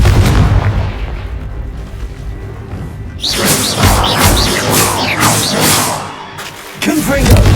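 Confringo fire spells in Hogwarts Legacy burst loudly, with an opening rumble followed by a run of whooshing blasts and booming impacts that fade and return at the end.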